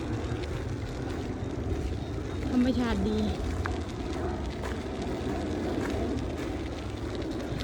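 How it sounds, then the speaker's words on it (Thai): A low, steady engine rumble of an airplane passing overhead on a day of melting snow, faint beneath a voice and outdoor ambience, swelling slightly midway. "เสียง เครื่องบินแล้วจ้ะ"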